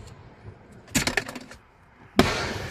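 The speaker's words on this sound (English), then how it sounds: "More fireworks?" Fireworks bursting at night: a crackling, sparkling burst around one second, then a sharp loud bang near the end, with quiet in between.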